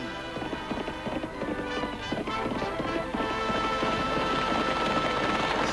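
Hooves pound in a fast, dense gallop, loud and close in a western setting, over a rumbling musical background.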